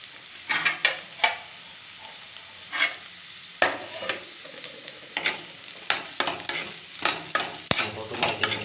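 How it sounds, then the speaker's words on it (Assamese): Potatoes and peas fry in a pan on a gas stove with the heat turned up, a soft sizzle broken by repeated scraping stir strokes and occasional spoon taps against the pan. "ভালকৈ ফ্ৰাই কৰি দিম।"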